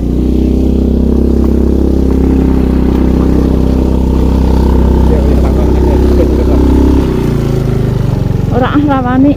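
A motorcycle engine runs loud and close on a badly broken, rocky mountain road, its rumble rising and falling with throttle, and a voice comes in near the end.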